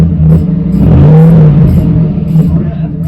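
A Chevrolet Silverado pickup running with no muffler gives a quick rev: a loud, raw exhaust rumble swells into a short throaty climb, then settles back to a deep idle burble.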